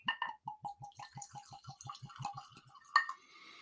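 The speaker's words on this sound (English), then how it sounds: "we're going to pour a little New Riff single barrel" New Riff single barrel bourbon poured from a freshly uncorked bottle into a glass: a close, quick run of evenly spaced glugs and trickles, ending in a brighter clink.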